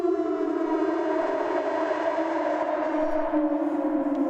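Siren Head lets out a loud, sustained civil-defense-style siren wail in the underwater horror game Water Womb World, a steady droning tone that slowly shifts pitch and holds for several seconds without talk.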